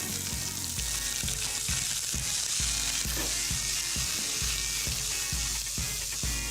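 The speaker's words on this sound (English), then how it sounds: "Onions in." Sliced onions fry in a hot pan with mustard seeds, giving a loud, steady sizzle broken by regular rhythmic clacks of stirring against the pan, close up and with no talk.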